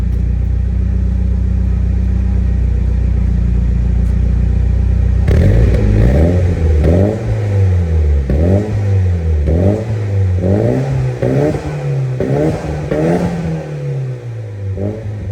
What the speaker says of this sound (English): And this is revving from the engine.